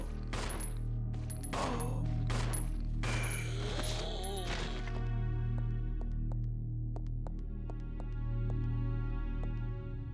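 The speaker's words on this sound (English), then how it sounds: "Start shooting." Gunfire in Resident Evil Zero: a rapid burst of sharp shots in the first half, then sparser single cracks over a steady low game hum, with speech-like sounds mixed in.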